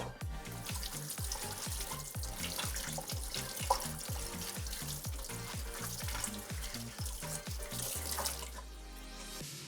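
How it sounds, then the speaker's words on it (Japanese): Cooked daikon radish rinsed under a running kitchen tap, a steady hiss of water over a rhythmic musical backing, with no one speaking. "なのでここで一度洗います。"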